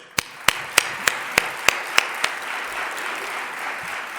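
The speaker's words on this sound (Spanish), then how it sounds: "le vamos a recibir con un enorme aplauso, por favor, a Pedro Amorós" Audience applause welcoming speaker Pedro Amorós at a talk on psychophonies, starting with a few sharp, evenly spaced claps and settling into a soft, steady patter of clapping.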